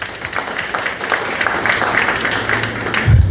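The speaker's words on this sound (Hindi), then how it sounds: "इनके लिए ताली बजाओ।" Audience applause in a church gathering, a steady wash of many hands clapping at moderate volume throughout, with a low rumble swelling near the end.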